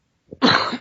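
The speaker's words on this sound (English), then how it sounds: "I hate to cough in your ear." A single close, harsh cough, preceded by a brief throat-catch, with no talking around it.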